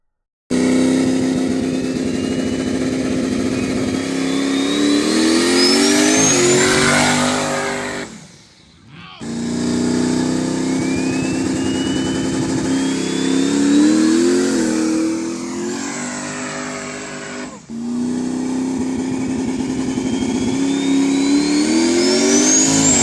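A race car's stock 5.3 V8 engine revs hard and close, climbing in pitch through repeated throttle pulls, with two brief drops between the loud, sustained bursts and no talking.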